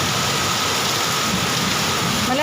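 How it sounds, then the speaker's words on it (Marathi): Loud, heavy rain falls at night without pause, a thick roaring wash of drops close by, with a faint rumble underneath. "पाऊस खूप पडतो आहे"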